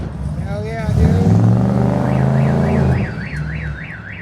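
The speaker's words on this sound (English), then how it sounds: "Already setting off car alarms." A car alarm wails nearby with a rising, warbling electronic siren that repeats in even cycles, over the deep rumble of a Ford F-100 engine revving and driving off; people are talking at the same time.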